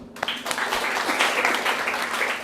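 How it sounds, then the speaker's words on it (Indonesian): A crowd clapping steadily for a couple of seconds, a dense patter of many hands indoors. "Tepuk tangan dulu."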